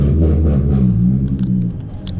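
A truck with a loud exhaust rumbles through downtown, a deep, steady engine drone that dips slightly toward the end, with faint crackles on top.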